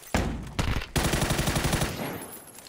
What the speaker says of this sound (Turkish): Allah'ım, bak, sonunda mermi attım ya